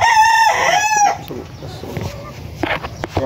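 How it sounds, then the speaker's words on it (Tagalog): A Sweater-breed gamefowl broodcock rooster gives one loud, close crow with a rising, drawn-out call, followed by softer clucks and background farm noise. "ito yung isang broodcock na raptor sweater"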